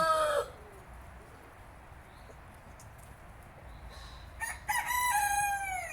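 Poultry at a Thai temple in Belgium, a rooster among them. Low outdoor noise carries a short crow-like call at the start, and a drawn-out rooster crow rises near the end, fairly clear over the background.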